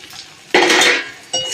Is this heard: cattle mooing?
no